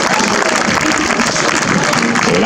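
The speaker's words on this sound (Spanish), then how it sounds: "El aplauso también para la embarcación Donostierra." Continuous crowd applause for the Donostiarra rowing boat at a Basque traineras regatta, heard as a steady, dense wash of clapping that holds at an even level throughout.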